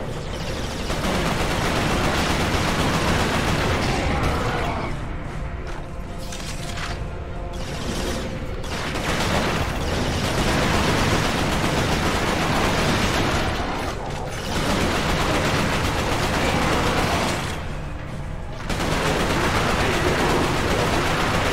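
Carbine with a grenade launcher attachment firing in Resistance: Fall of Man, sustained bursts of rapid automatic gunfire with brief pauses between volleys, loud and close.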